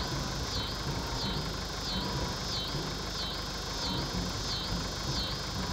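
A tractor engine runs steadily and close by on a farm during planting work, a continuous broad rumble with a repeating higher whine, heard alone without talk.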